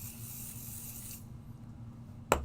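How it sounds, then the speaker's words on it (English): Pixie spray misted onto a glitter glaze, a soft hiss of spray lasting about a second near the start, then quiet room tone ending in a single sharp click. "I always use pixie spray with my glitter glazes so that they don't seep underneath."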